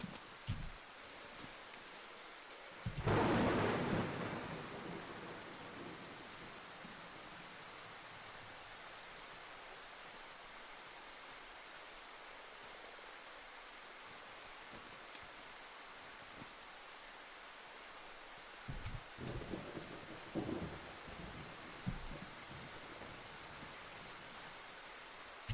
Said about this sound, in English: Especially with this ever so lovely, stormy weather.